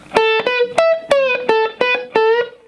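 A short electric guitar lick with a crisp, slightly distorted tone: a quick run of picked notes in an even rhythm, played alone.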